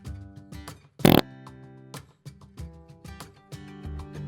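A series of short, low, buzzing bodily noises, burp- and fart-like, come in quick separate bursts with one louder, harsher blast near the start, fairly close and with no talk.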